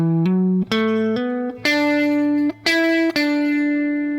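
A clean electric guitar plays a major pentatonic lick, with hammer-ons and several distinct notes stepping through the phrase, the last note ringing out. It sounds close and isolated, with no talking.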